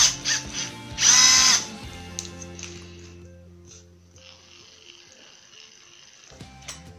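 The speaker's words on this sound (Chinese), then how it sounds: "这是锂电池的 impact 冲击起子机" Bosch 18V lithium-battery impact driver running close by: a short, loud motor whir that ramps up and cuts off, followed by softer mechanical whine and ratcheting tones.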